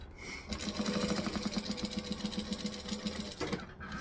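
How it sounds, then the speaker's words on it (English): A sewing machine runs a rapid, even stitch close by while back-stitching an eighth of an inch from the edge of jelly vinyl, pausing briefly near the end. "Back stitch, and I'm just stitching at 1/8 inch from the edge of the jelly vinyl."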